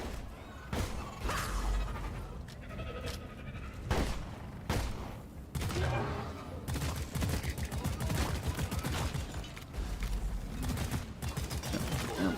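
Rapid gunfire in the co-op game Deep Rock Galactic during a swarm, with dense bursts of shots and sharp cracks nearly continuous under the game's clamor and occasional voices.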